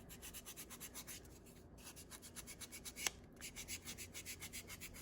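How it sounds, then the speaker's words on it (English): A buffer rubs back and forth over a fingernail coated with chunky glitter dip powder, making a quick, steady scratchy swishing about four strokes per second, close and faint, with a short pause midway. "You're going to go ahead and buff it."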